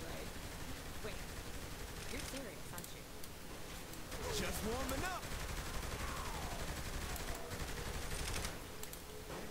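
Pistol gunfire in the video game Saints Row The Third pops in scattered shots and short bursts over constant game noise, with people talking throughout.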